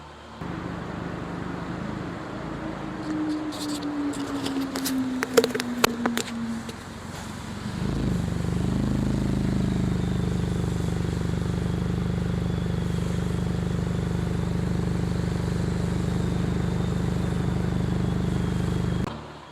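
A 2020 Honda Jazz GK 1.5 V+ car engine cranks, catches and settles into a steady low idle that hums on without a break.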